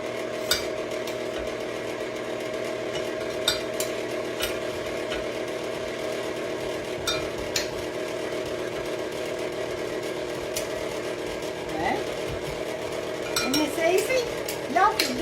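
Electric mixer churning pecan butter cookie dough in a home kitchen, a steady whirring drone running throughout at moderate level with small clinks of utensils against the bowl and some louder scraping near the end.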